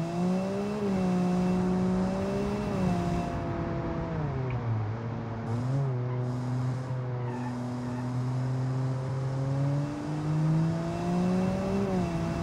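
A small turbocharged rear-wheel-drive car revs hard in the BeamNG driving game, its engine whining up and down through gear changes with tire squeal mixed in, loud and close.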